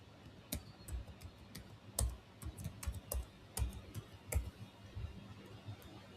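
Keys clatter on a computer keyboard as an SQL query is typed, irregular bursts of crisp clicks with brief pauses, fairly close and alone with no talking.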